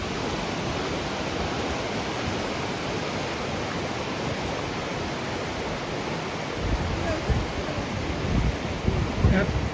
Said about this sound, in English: stand alongside rushing mountain streams